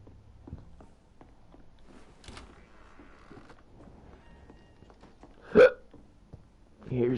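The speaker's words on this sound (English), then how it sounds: "Here's the hiccups." Two sharp, loud hiccups from a character in the video game Vampyr stand out against quiet background game sounds, the second coming about a second and a half after the first.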